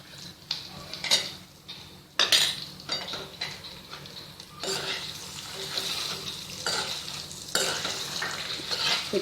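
Garlic and dry coconut frying in a pan, with a soft sizzle under repeated scraping strokes of a spoon, in bursts of stirring spaced by short pauses, close and moderately loud.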